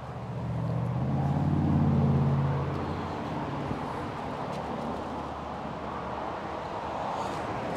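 Steady roar of motorway traffic close by at a classic car auction, with a louder vehicle swelling past early and then a constant broad wash of road noise.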